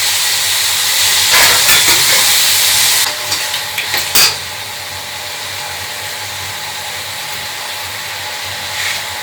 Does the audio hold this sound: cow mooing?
no